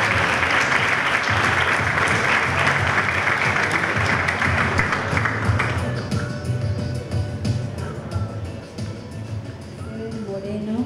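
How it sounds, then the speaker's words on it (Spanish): Audience applause fills a ceremony hall for an institution's 25th anniversary plaque presentation, loud and sustained for about six seconds before thinning into scattered claps under speech. "vamos a renovar el aplauso a Estefanía, que ha entregado su vida para la institución"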